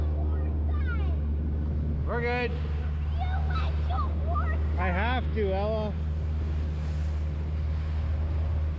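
Constant low engine drone and rushing water from a jet ski moving over waves, with voices calling out over the noise.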